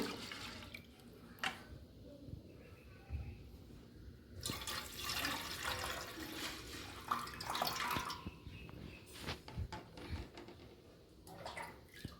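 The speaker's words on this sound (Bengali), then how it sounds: "ডালটা একটু ধুয়ে নিচ্ছি" Lentils being rinsed in water by hand in a pot, with irregular sloshing, swirling and splashing bursts and a brief clatter, fairly close and quiet, no talk.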